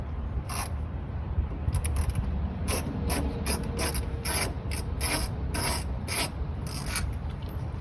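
A Phillips screwdriver works loose the screws of an interior door panel on a 1980 Ford Fairmont Futura, giving repeated close ratcheting clicks and scraping bursts over a steady low rumble, with no talk.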